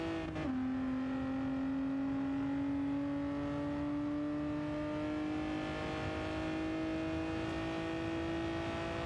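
Hot hatch in Gran Turismo 7 straining in first gear, a loud sustained engine whine climbing steadily in pitch, with a brief shift-like dip near the start and no talk.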